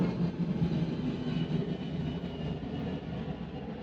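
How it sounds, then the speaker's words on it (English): A noisy airplane passes overhead as a low, steady rumbling drone that stays fairly faint and even throughout. "there's a noisy plane"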